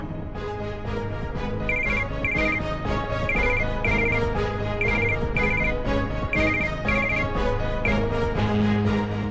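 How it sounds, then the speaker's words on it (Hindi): A phone ringtone plays loud and close, repeating a bright chirping pattern over a steady musical backing, with no voices. "रोहित ने अपनी कंपनी के आईटी हेड सैम को फोन लगाया।"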